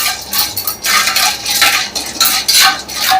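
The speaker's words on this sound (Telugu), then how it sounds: "one and half table spoon శనగపప్పు వేసుకోవాలి వీటిని మొదట వేయించుకోవాలి" A spatula scrapes and stirs chana dal roasting in a tablespoon of oil in a pan, producing steady, close, fairly loud metallic rasping and clinking that continues without pause or speech.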